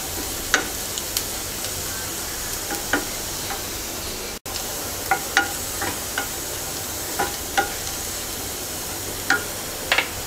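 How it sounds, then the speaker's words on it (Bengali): Onions fry in the oil left over from frying koi fish, a soft steady sizzle under repeated light scrapes and ticks of a utensil stirring the pan at intervals. "মাছ ভাজার পর যে তেল ছিল সেই তেলটুকু দিয়েই পেঁয়াজটা ভাজা হয়ে যাবে"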